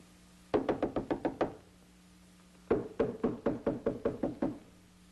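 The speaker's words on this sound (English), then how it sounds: "Knock on the door." Knuckles rap on a door twice: a quick burst of about seven knocks, a pause of roughly a second, then a longer run of around ten, crisp and close.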